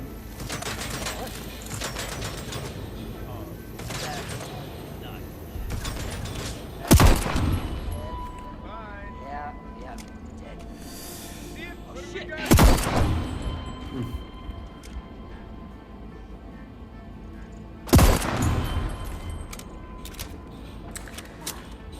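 Gunfire in the video game Deathloop: three sharp, loud shots ring out several seconds apart over a low game ambience with scattered smaller effects, and people talk intermittently underneath.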